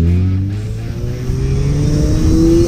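A Mazda FD RX7 with a rotary engine drives along, its smooth, steady engine tone rising in pitch as it accelerates, loud and close throughout.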